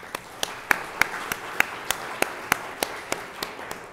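Audience at a directors' summit keynote in the University Club of Chicago claps in a thin, evenly spaced patter of sharp individual claps, close and moderately loud, with no one speaking.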